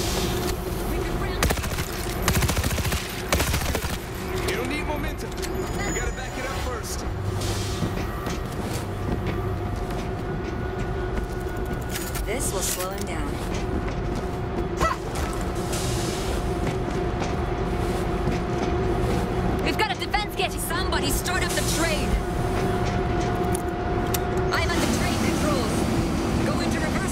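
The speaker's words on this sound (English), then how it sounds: "auto turret. Man, that's loud!" Loud, continuous rattling roar of an auto turret firing in World War Z Aftermath, a dense unbroken mechanical clatter with a droning hum, lasting throughout while a voice talks over it.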